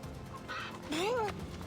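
A chicken clucks and squawks in Assassin's Creed Odyssey, a short rising and falling cry over faint background game ambience.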